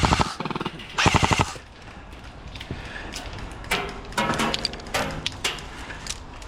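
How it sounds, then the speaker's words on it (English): Airsoft guns fire in rapid bursts during an indoor high-rise skirmish, with a loud burst near the start followed by scattered shots and short volleys at middle distance. "There's shots coming from over that way."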